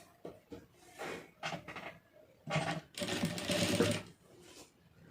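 A sewing machine stitching the lining of a blouse runs in short bursts of clattering needle action, then one longer steady run, close by with light handling noises between the runs and no talk.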